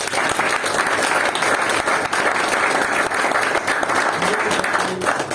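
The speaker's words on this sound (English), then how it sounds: "Can we give the rest of the Zoom participants a big round of applause" Sustained applause from participants at a Toastmasters meeting, dense and steady clapping at full volume for several seconds.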